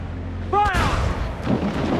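Ship cannon fire in Assassin's Creed during a 1719 pirate-era sea battle: a shouted command, then a loud broadband boom with a rumbling, crackling tail that lingers under busy background noise.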